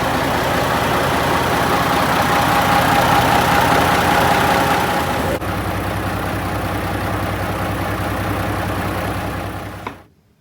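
A Gardner diesel engine idles steadily aboard a 55 ft Luxemotor Dutch barge, a loud, close, continuous low rumble with a faint steady whine that shifts tone midway before cutting to silence at the end.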